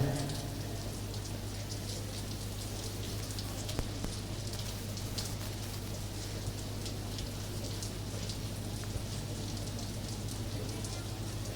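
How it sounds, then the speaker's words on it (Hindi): Rain falls steadily on an outdoor memorial gathering for martyrs in Gumla, India. It makes an even, dense patter with a low background hum throughout and no talking. "बरसात का मौसम है, बारिश तो होगी ही।"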